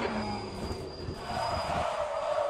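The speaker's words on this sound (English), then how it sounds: "Right, let's do a lock up." In the Le Mans Ultimate racing game, a car's tyres lock up under braking, giving a rising squeal and scrub over engine and road rumble that grows steadily louder toward the end.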